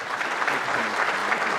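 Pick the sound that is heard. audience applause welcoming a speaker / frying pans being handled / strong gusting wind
audience applause welcoming a speaker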